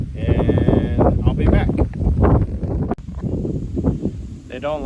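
Sheep bleat in a farm stall on a rainy homestead morning, the calls rising under steady close-up talk that runs through the whole stretch.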